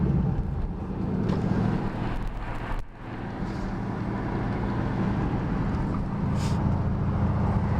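A Gen5 Camaro fitted with long tube headers gives a steady, deep exhaust rumble close by for several seconds, with a brief dip near the middle and wind buffeting the microphone.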